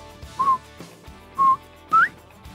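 A person whistles three clear notes imitating a bobwhite quail's call: two short level tones, then a final note sweeping upward.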